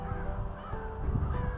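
Crows caw in an urban woodland in early spring as snowmelt sets in, harassing a great grey owl. The calls sound distant and blend into a steady outdoor hum.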